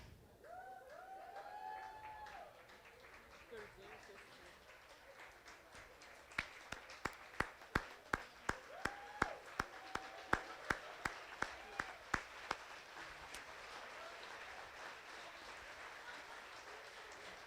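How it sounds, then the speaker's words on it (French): An audience at a community gala breaks into applause. Individual rhythmic claps ring out sharply over a soft crowd murmur before fading back into the background hum of the room. "Je voulais vous demander une grande main d'applaudissements, mais c'est même pas on n'a même pas besoin de le demander"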